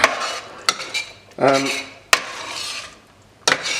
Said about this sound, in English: Keep that stirring round.